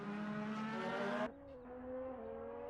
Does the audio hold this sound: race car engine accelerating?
yes